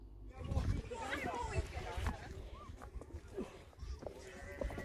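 Sheep bleat nearby amid outdoor rustling and low rumble, with a person talking over the animal sounds.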